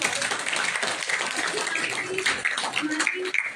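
An audience claps to welcome guests onto the stage at a foundation event, a loud, dense patter of hands mixed with voices and crowd murmur.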